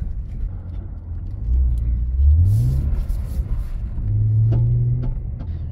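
A rear-wheel-drive BMW E46 sliding through snow, its engine droning low and rising in pitch as it revs, then holding a steady higher note, fairly close.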